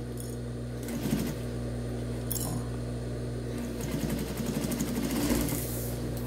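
A sewing machine stitching a handmade luxury bedroom slipper, heard as a steady mechanical hum with rapid needle clatter in a few short bursts, close and moderate, without talk.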